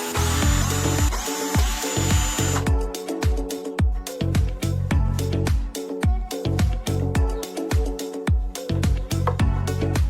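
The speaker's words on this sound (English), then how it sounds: "From the inside, we can remove the screws holding the front panel in place." A power drill or electric screwdriver loosens screws from a Genius SW 375 speaker unit, whirring loudly and steadily at first, then pulsing in rapid repeated bursts.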